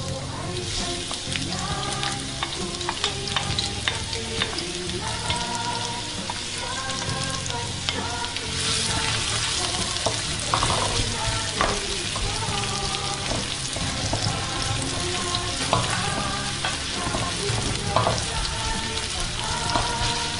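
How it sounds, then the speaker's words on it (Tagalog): Chopped onion sizzling in hot oil in a pan for fried rice with meat, a steady dense crackle running throughout with small pops and bursts, fairly loud and close, with some background music-like tones underneath. "mainit na yata yung aking kawali na may mantika. So, una yung onion."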